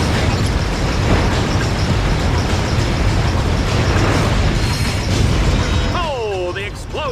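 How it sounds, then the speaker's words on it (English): Explosions and gunfire from the Dread Zone arena in Ratchet: Deadlocked form a dense, continuous roar of blasts at high volume, with a voice talking under the noise near the end. "Oh, the explosions, the gunfire, the carnage."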